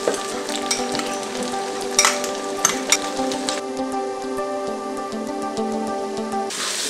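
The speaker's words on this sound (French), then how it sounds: "moi mettre poivron" Onion and bell pepper sauté in a pan for vegetarian tacos, a close, steady sizzle with a few sharp clinks and crackles early on and no talking over it.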